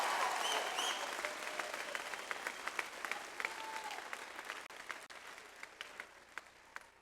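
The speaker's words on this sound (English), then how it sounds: "So please give yourself a round of applause for what it is that you accomplished." Graduates and guests applaud at a college commencement ceremony, starting as a full wave of clapping from a large crowd that gradually thins out into scattered individual claps toward the end.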